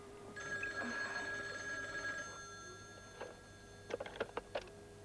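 An indoor telephone rings in a quiet room, one long bright electronic ring followed by a pause and a quick cluster of shorter trilling bursts, moderately faint.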